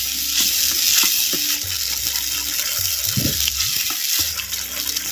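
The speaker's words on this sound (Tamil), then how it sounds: "அப்படியே நல்லா கிண்டி விடுறோம்" Curd is stirred into a fried sardine fish curry in a pan, a continuous sizzle and frying hiss with soft scraping stir strokes and wet squelches, close and steady with no talk.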